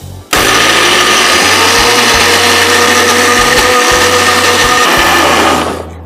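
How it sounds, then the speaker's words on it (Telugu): A kitchen mixer grinder runs at full speed grinding food, a loud steady whir with a rhythmic low rumble that pulses as the load shifts, starting abruptly and winding down at the end. "సో ఫస్ట్ ఇక్కడ మిక్సీ పెట్టేసి గ్రైండ్ చేసేద్దాం."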